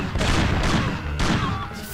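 Gunfire in the PS2 video game Mafia: a close, loud burst of heavy booming shots, three or four blasts in quick succession with a short rumbling tail after each.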